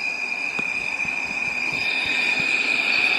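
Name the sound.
train in Roblox Mega Miners video game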